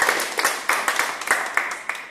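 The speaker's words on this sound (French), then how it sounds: "on peut l'applaudir." Applause for Catalina, screenwriter of the film, on the first day of shooting: a short burst of loud, close clapping from a small group, with distinct individual hand strikes in an uneven rhythm.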